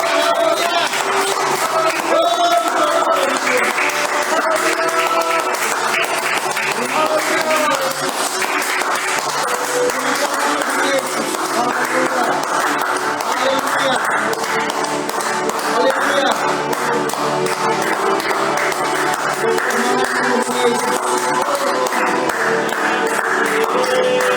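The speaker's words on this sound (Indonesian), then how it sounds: "Berikan tepuk tangan" A church congregation applauds in steady, sustained clapping that fills the room at even loudness, blended with organ-like music and voices.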